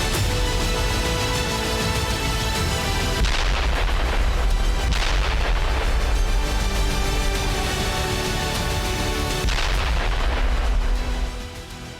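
Heavy explosions and artillery fire boom over Tehran in long rolling bursts, with thunderous low rumbles and crackling blasts that swell, cut off abruptly and resume, loud and continuous for most of the stretch before fading at the end.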